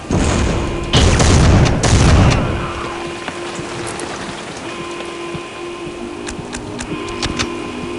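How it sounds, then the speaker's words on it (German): A grenade in Soldier of Fortune 2 goes off with two loud, rumbling bursts in quick succession, then fades into a steady mechanical hum with scattered small clicks. "Granate."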